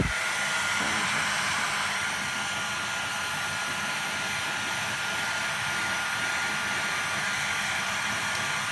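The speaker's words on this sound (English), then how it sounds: "Don't hold the heat gun too close from the battery" A heat gun blows hot air steadily onto heat shrink wrap around a battery pack, a constant loud fan-driven whoosh and hum with no break throughout.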